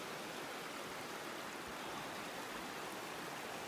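A waterfall at a mountain outlet in Castleguard Meadows rushes as a dense, steady roar of falling water. The broadband hiss holds constant and fairly close throughout, with no voices.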